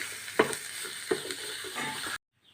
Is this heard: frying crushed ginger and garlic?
yes